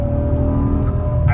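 BMW M6 V10 engine droning loud and close, a steady deep tonal roar with a slight lift in pitch near the end.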